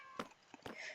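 Indoor cat mewing insistently at night, two or three short, close, plaintive cries spaced through a quiet room.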